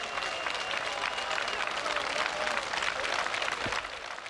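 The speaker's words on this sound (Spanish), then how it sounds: "Aquellos aplausos anónimos en los balcones a nuestros sanitarios." Anonymous applause from apartment balconies for health workers, a broad, continuous wash of many people clapping at a distance, with faint voices mixed into the steady clatter.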